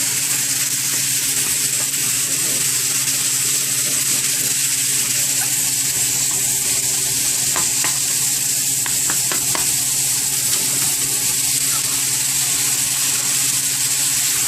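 Ground beef sizzling and frying in a pan while being stirred, a loud, constant close-up crackle with occasional scraping and clicks from the utensil.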